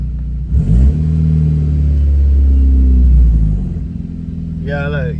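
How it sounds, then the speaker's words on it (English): A VW Mk6 engine tuned with a Cobb Accessport, producing about 1 PSI of boost, starts with a deep rumble, rises into a sustained rev and then falls back toward idle, with a short voice-like sound at the end. "I'm gonna go ahead and start it up"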